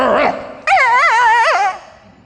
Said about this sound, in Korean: 개들도 이렇게 대화합니다.